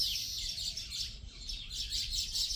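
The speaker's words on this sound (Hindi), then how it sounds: "ये देखो चिड़ियों को देखो, अपना घोंसला बनाने में लगे हैं।" Small birds building a nest outdoors, giving rapid, repeated high chirps and tweets at close range over a steady low background rumble, with no talking.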